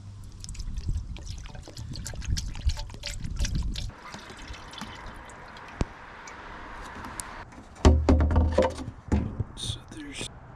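Coolant poured into an old road grader, a wet trickling and gurgling stream that pauses and resumes, close by, with scattered clanks and a voice talking in between.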